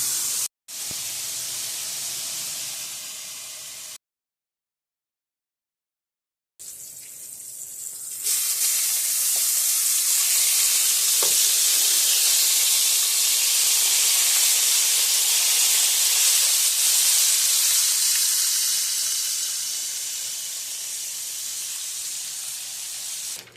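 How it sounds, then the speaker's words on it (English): Mild Italian sausage for homemade pizza sizzles steadily as it cooks down in a pan, a broad hissing wash that cuts out briefly, then returns louder and sustained with no voices. "cook down mild Italian sausage for our pizza"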